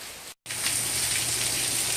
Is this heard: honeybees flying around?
no